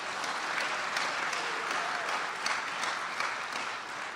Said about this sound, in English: give them all a great round of applause.